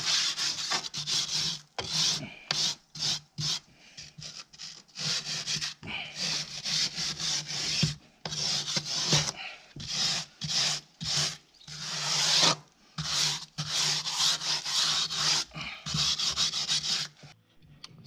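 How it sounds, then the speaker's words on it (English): A David Brown 996 tractor wheel being sanded by hand with sandpaper: steady, close rasping strokes repeat in a rhythmic back-and-forth with brief pauses between passes, and no voices. "So the wheel is now sanded down."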